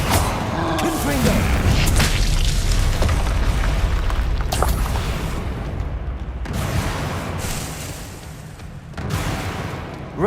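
In the Hogwarts Legacy video game, a Confringo spell blast lands as a deep, booming explosion, followed by rumbling fight effects that fade and then swell again, with no one talking.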